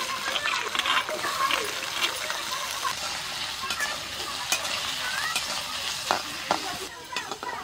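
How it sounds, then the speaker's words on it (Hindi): Potatoes frying in hot mustard oil in a kadai, a dense bubbling sizzle with crackles and stirring scrapes, close and steady throughout, with no speech over it. "तो आलू को ना हल्का सा फ्राई कर लिए हैं"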